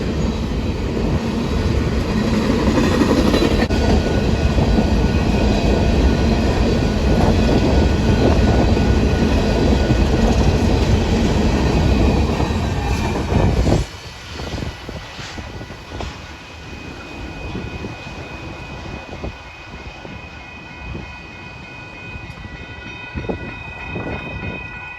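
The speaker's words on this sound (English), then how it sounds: "The coal train all by itself, westbound on track 1." A westbound BNSF coal train rolls past on track 1 at Sulphur Avenue, a loud steady roar of wheels and cars for about fourteen seconds that drops to quieter rail clatter and rumble as the train recedes.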